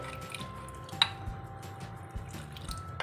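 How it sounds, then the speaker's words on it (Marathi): Water is added bit by bit to flour and salt in a bowl and stirred into a paste, giving faint wet squishes and small drips against a quiet background. "आता आपण यामध्ये थोडं थोडं पाणी घालून अशी पेस्ट बनवून घेणार आहोत"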